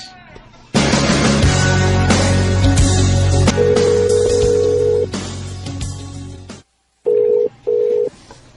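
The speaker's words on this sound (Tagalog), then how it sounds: "Sige lang ring ang cellphone, pero dilikid mo tubag." A cellphone rings against loud background music, its tone repeating in a few short bursts near the end after a brief silent gap.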